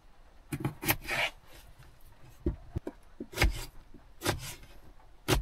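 A knife cuts potatoes during car camping in the rain, giving irregular scraping strokes and sharp chopping knocks at close range, spaced unevenly with quiet gaps between.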